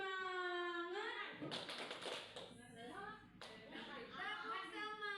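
A group claps a rhythmic cheer pattern in short bursts, with voices chanting along between and over the claps, fairly close.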